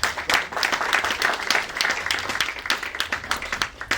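A church congregation applauds during a French-language service, dense overlapping claps filling the room steadily for the whole stretch, with a few voices mixed in.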